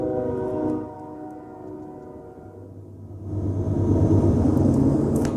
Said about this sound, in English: We'll pause for a train.